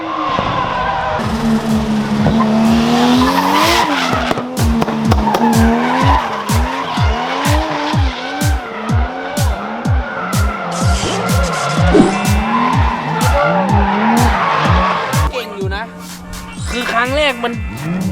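A car drifting through a lane change and corners sends out long, wavering tire squeals over a pulsing engine for many seconds, with people talking over it.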